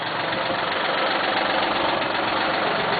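A Cub Cadet tractor engine runs at a steady idle, loud and close, with an even low knocking rumble and no voices.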